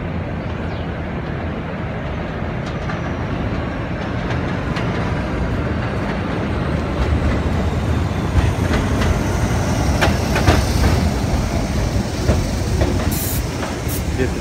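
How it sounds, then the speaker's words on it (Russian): New York subway train riding along the tracks, a loud, steady rumble and hiss with rattling clicks of the railcars, continuous and close throughout with no talking. "он едет на метро."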